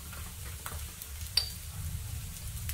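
Shallots sautéing in a pan with turmeric and other spice powders, a soft steady sizzle with light stirring and one sharp metallic clink.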